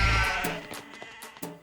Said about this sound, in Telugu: ఆ వెనకాలే గొర్రెలు